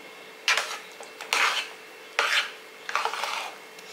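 A utensil scrapes around a pot while stirring thick ragi kali, four separate rough scraping strokes, close and moderately loud, with no talking.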